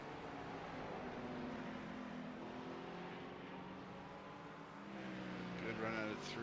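GT3 race cars, a Ferrari, a Lamborghini and a BMW, battle in a racing game at Circuit de Nevers Magny-Cours, with a steady engine drone and a rising rev near the end under a commentator's talk.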